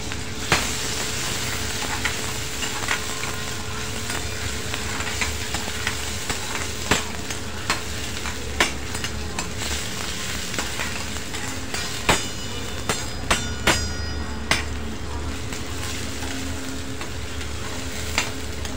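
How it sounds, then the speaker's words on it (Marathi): Finely chopped tomato sautéing in a pan for shahi palak paneer, a continuous close sizzle with sharp clinks and scrapes of a spoon stirring at irregular intervals. "त्यामध्ये आता आपण बारीक कट केलेला टोमॅटो घालणार आहोत।"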